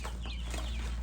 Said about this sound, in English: You give a little couple of chirps.